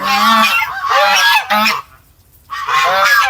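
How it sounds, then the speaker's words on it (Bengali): Loud, close honking from white domestic geese beside a garden pond, a run of harsh, brassy calls broken by a brief silence before another burst. "সাদা রঙের রাজহাঁসগুলিকে দেখুন কি সুন্দর খুব সুন্দর রাজহাঁস"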